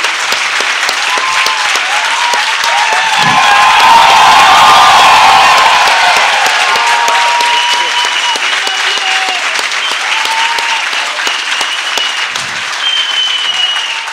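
Audience applause fills a comedy and laughter session at a literature festival, a steady, loud wash of clapping with scattered cheers and whoops, swelling in the middle and holding for the full stretch.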